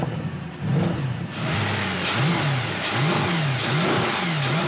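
A naturally aspirated estate car engine, a used mid-size performance wagon, idles and then revs repeatedly in close, loud bursts that rise and fall several times.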